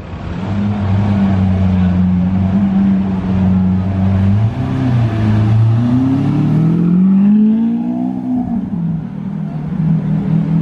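Bugatti Chiron hypercar trailed by Bentley Bentayga SUVs driving past at night in Juan-les-Pins, a loud continuous engine drone that rises in pitch as the cars accelerate by, then eases off.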